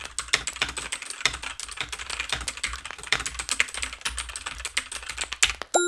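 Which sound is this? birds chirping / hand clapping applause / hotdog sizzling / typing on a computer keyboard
typing on a computer keyboard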